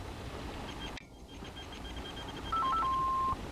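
An APRS radio receives a text message as a short data burst, heard as a brief sequence of steady electronic tones over faint background hiss, ending with a small click.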